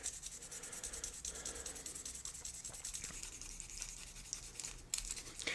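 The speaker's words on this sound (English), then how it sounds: "This time I'm going to be sanding with 2000 grit to keep everything nice and smooth" Steady, soft rubbing and scratching of 2000-grit sandpaper worked back and forth by hand on a Mercedes before polishing, continuous and close with no voices.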